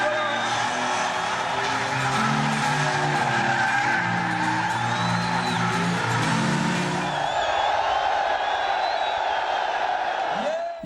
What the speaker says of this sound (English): Into a bit of donutting.